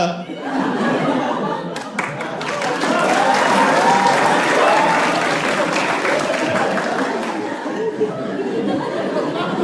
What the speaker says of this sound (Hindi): ये ताली क्या मार रहे हो बे?